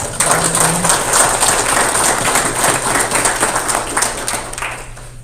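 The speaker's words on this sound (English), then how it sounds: "give them a round of applause for contributing to this" Applause from a town board meeting audience honoring certificate recipients, a steady wash of many hands clapping that holds for several seconds, moderately loud and fading slightly near the end.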